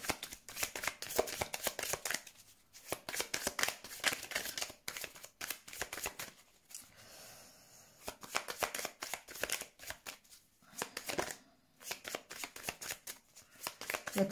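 Tarot cards being shuffled for a reading, a steady riffling and sliding of the deck that runs nearly continuously in close, papery bursts with brief pauses.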